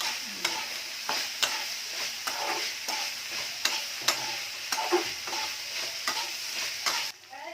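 Star fruit and prawns sizzle steadily in a frying pan while a utensil stirs, scraping the pan in sharp, regular strokes about every half second close up, the sizzle cutting off near the end.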